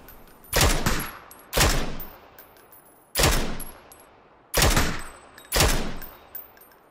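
Gunfire from the battle royale shooter PUBG: five loud, sharp shots or short bursts, each with a long ringing tail, spaced about a second apart, with no voices.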